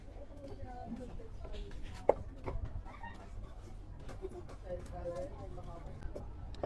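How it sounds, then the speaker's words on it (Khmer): Knife chopping pork on a cutting board, a run of irregular sharp chops, some louder than others, with a person talking over them and birds audible in the background. "ឥឡូវយើងមកហាន់សាច់ជ្រូក"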